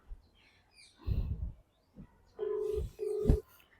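A phone call is dialed: two short, steady electronic tones sound close and faint, following soft handling noises, with no one talking.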